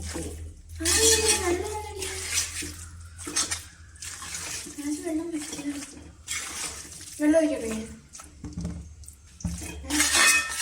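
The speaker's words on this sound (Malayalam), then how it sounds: "ഒരു രണ്ട് ഗ്ലാസ് വെള്ളം ഒഴിച്ചിട്ടുണ്ട്" Water splashes and pours into a pot of chicken masala amid clattering cookware, with a person talking over the kitchen sounds.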